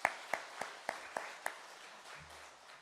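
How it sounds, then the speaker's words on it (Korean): Six unison claps in a steady beat from a Korean church congregation at a Korean War memorial service, then the clapping dies away into quiet room noise. "우리 한 박수로 하나님께 영광을 드리겠습니다"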